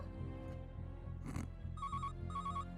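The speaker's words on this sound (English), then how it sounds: "The phone rings." A telephone ringing indoors in two electronic trilling bursts separated by a short pause, heard faintly over a low steady hum with no talking.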